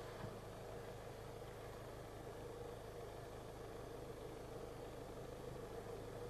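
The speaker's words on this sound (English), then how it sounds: "Turn the engine on and see if anything changes." A Land Rover Discovery Sport idles with its fuel tank reading empty, a steady low, even engine hum with faint vibration running unchanged throughout and no talking.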